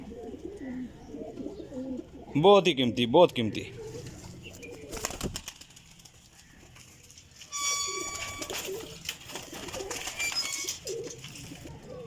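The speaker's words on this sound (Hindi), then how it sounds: "लो जी शारका कबूतर जे" Flying pigeons in a loft give a few soft, throaty coos amid other bird sounds and rustling, while someone talks nearby.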